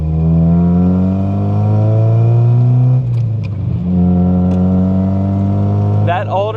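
A 1990 Mazda Miata engine running after an alternator replacement, a steady low harmonic hum that pitches up slightly, dips briefly mid-clip, then holds, with a short voice near the end.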